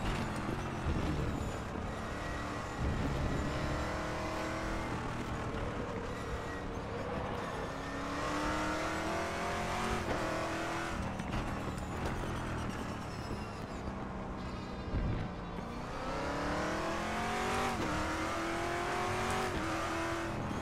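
An American muscle car in the RaceRoom Racing Experience sim revs hard and continuously, engine pitch climbing and dropping through gear shifts with a brief tire squeal, loud and steady throughout with no talk.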